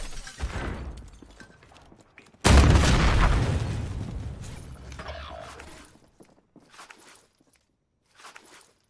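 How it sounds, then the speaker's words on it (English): A grenade explosion in the video game Warzone lands as a sudden loud boom that rumbles and decays over a couple of seconds, followed by faint scattered footsteps and small noises. "Throwing out a grenade."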